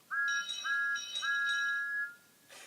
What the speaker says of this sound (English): Toby and Thomas blew their whistles to say thank you.